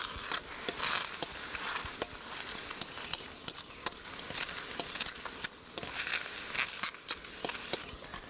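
Mushrooms stir-frying in a wok over a gas flame: a steady close sizzle and crackle with repeated sharp scraping and stirring clicks throughout, no voices.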